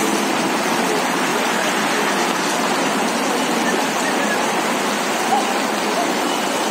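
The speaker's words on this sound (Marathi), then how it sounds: "गेल्या अर्ध्या तासापासून हा मुसळधार पाऊस लातूर शहरात पडत आहे." Heavy monsoon rain pouring down in Latur city, a dense, loud and unbroken roar of water that stays constant throughout with no voices over it.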